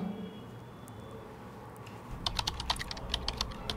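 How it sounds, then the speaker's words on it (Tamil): Rapid clatter of keys typed on a computer keyboard in a bank office, starting after a quiet stretch and continuing in quick, irregular bursts, fairly close with no voices. "நான் ராஜினாமா கடிதத்தை டைப் பண்ணிகிட்ருக்கேன்"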